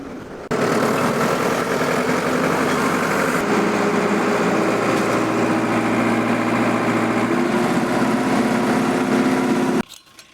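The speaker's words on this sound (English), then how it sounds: "and we're going to continue plowing" Allis Chalmers 175 diesel tractor engine pulling a plow, a loud, steady close-up drone with constant harmonic hum that shifts pitch slightly partway through, running without pause until it cuts off abruptly near the end.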